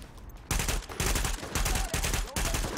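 Bursts of rapid gunfire in Tom Clancy's The Division, loud and close, sounding as several repeated automatic volleys with brief gaps between them.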